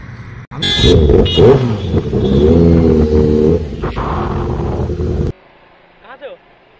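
A Kawasaki superbike engine revs loudly and close for about five seconds, its pitch rising and holding before cutting off abruptly, with voices heard around it.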